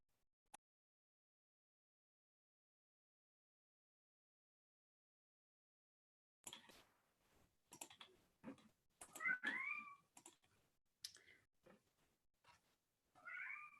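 A pet cat meows indoors after a long silence, a few short mews then a louder drawn-out call, with scattered clicks and taps around it and no speech.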